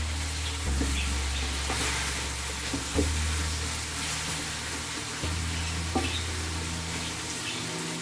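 Okra with onions frying in a pan on low heat, a continuous soft sizzle broken by a few scraping stirs of a spoon, close and steady with no talking.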